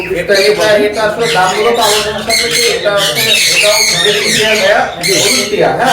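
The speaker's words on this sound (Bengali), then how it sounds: "এখানে মাসালায় হেভি সুন্দর একটা পেয়ার টিয়া পাখি আছে" Parakeets squawk repeatedly at the Mirpur 1 bird market, harsh calls piling up close and loud amid a dense, busy background of many other birds.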